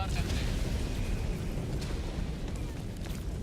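An explosion in Helldivers 2 lands as a heavy, close boom that rolls into a sustained low rumble for several seconds, with no speech over it.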